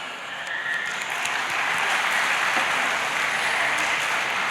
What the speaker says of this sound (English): So first applause to our parents once.